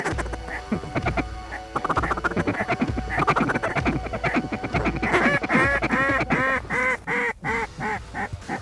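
Ducks and geese quack and honk loudly near a hunting spread in Alberta, a busy overlapping chorus that builds into dense, rapid calling toward the end.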